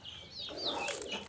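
Pigeons on a farm give a short, soft warbling coo, close and faint, with no talking.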